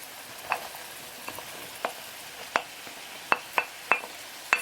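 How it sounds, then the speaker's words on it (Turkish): Minced meat fries in a pan with a soft, steady sizzle broken by scattered sharp pops and crackles, close and fairly quiet, with no talking. "kıymalarımızı aldık. Biraz kavuracağız."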